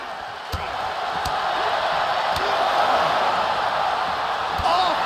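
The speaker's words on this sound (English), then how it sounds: "The sound of this crowd is deafening, and he's asking for more." A roaring arena crowd in WWE 2K22 during a Keith Lee vs Adam Cole wrestling match, a dense, steady wall of cheering with a few sharp impact thuds and slams cutting through it.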